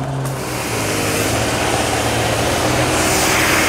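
A trailer-mounted 70HP cold water jetter sprays at 4,000 PSI through a number 9 nozzle, a loud, steady engine roar and hiss that holds close and unbroken throughout.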